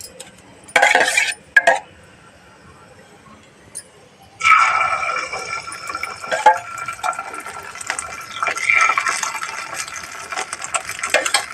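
Cooking oil poured into a paniyaram pan, a couple of short clinks followed by a longer spread of light splashing, trickling and metallic sizzle-like noise, close and moderately loud, no talking.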